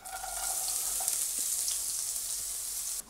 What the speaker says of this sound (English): So what I need to do then is just get the onion in the pan.